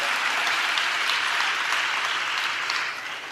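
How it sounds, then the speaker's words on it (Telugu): Applause from a church congregation during praise, a dense sustained clapping that fills the space evenly before tapering off slightly near the end. "చప్పట్లు కొడుతూ స్తోత్రాలు చెప్దాం."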